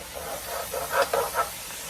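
Zucchini sautéing in a pan gives a steady hissing sizzle, swelling briefly in a few soft bursts as the vegetables shift, close and unaccompanied by talk.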